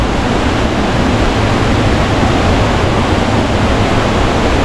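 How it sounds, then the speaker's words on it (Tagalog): A waterfall at Talon Hidden Resort roars in a constant, dense broadband rush, loud and close, with no break and no voices. "Ayun yung falls."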